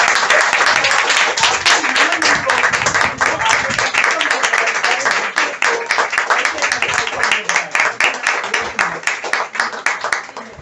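A standing audience at an event in a herbal store applauds loudly in welcome, dense clapping that thins into a slower, rhythmic unison clap toward the end.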